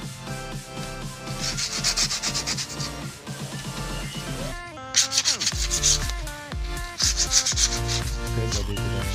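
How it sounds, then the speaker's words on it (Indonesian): Sandpaper is rubbed by hand across a wood surface to knock off dust before coating, a scratchy rasping that keeps going under a loud bed of music. "Oke, jadi kita amplas dulu, nggak usah sampai mengupas."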